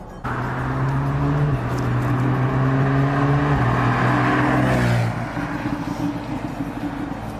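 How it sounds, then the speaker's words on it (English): A 991.1-generation Porsche 911 Carrera S engine drones loudly while driving, its pitch stepping upward through several gear changes before easing off, heard close from inside the car with no talk. "There's just something so special about the sound of the engine."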